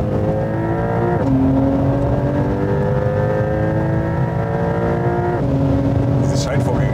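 Porsche Turbo engine pulling hard under acceleration, a loud steady drone rising in pitch with two sharp gear shifts that each drop the revs before it climbs again, heard from inside the car.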